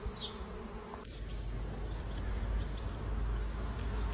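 A swarm of honeybees buzzes continuously around a nucleus hive on a hot day, a dense, steady hum that grows slightly louder and fuller as the clip goes on, with no talking.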